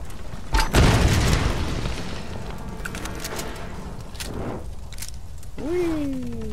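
A heavy boom from a grenade explosion in the video game Tomb Raider, loud at first and then rumbling down into scattered debris and game effects, with a second softer blast a few seconds later.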